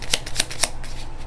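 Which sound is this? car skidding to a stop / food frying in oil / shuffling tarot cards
shuffling tarot cards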